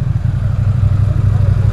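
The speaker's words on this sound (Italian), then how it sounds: "Spegni il motore, metti la prima." A BMW F 800 GS motorcycle engine runs loud and close in deep mud, a steady low throbbing idle with no speech over it.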